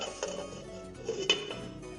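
A metal lid set down on a pot of onion payasam simmering on the stove gives a couple of quiet clinks and a light rattle, close by, with no voices.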